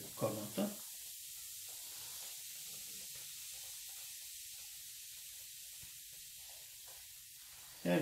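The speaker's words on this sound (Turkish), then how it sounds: "Belki duyuyorsunuz sesini. Bir fışırtı geliyor." Baking soda fizzing in water while homemade fabric softener is mixed, a steady soft hiss that runs throughout, with a couple of brief louder bumps near the start and at the end.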